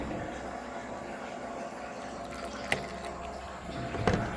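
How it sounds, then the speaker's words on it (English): A pump fills a container with homemade fuel, a steady liquid rush and hum with a couple of brief clanks and knocks near the end. "we'll turn the pump on and just fill her up"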